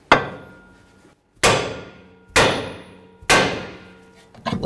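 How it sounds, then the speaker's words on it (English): A hammer strikes the steel nut on the loaded front driver-side shock assembly of a 2008–2012 Jeep Liberty, four sharp metallic clanging blows spaced about a second apart, each ringing out briefly, close and loud with no speech. "we're going to use our hammer and we're going to bonk this right here"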